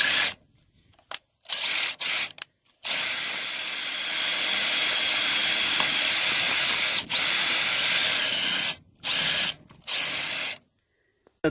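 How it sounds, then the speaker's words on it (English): A power drill bores out rivets on a military truck during a 24V-to-12V marker light conversion. Loud, close whining bursts run between silent gaps: two short runs, one long sustained drilling pass, then several brief bursts. "Just drilled through those holes and took those out."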